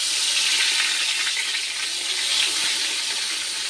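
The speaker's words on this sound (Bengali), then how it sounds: "বেগুন ভাজা হয়ে যাবে। তো একটা একটা করে বেগুনটা ছাড়ি।" Eggplant slices dropped one by one into hot oil, giving a steady, loud broadband sizzle and bubbling throughout, close and continuous with no voices.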